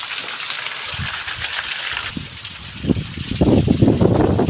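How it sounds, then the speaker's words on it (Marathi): Water pours down from a height at a misty monsoon viewpoint on Vishalgad fort, a continuous rushing gush that swells louder in the second half. "पाणी वरून पडते खाली"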